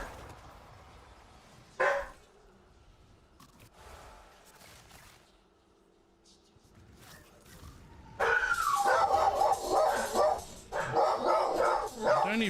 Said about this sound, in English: That was such a loud bark